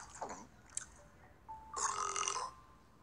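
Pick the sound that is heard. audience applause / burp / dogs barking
burp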